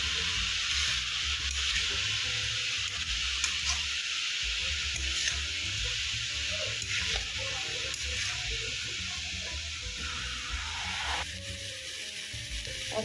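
Chicken pieces fry in hot oil in a pan for dhaniya chicken, making a dense, steady sizzle that lasts throughout at an even level, with faint background sounds and no clear talk.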